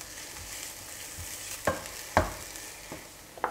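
A vegetable mixture softening gently in olive oil in a pan gives off a soft, steady sizzle, broken by a few faint clicks and taps from stirring; no voices.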